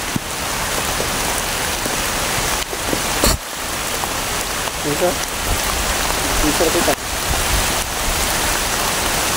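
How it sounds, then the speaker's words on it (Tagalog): Heavy rain pours down in a dense, continuous hiss, loud and close throughout, with brief voices speaking under the downpour. "Malakas ang ulan."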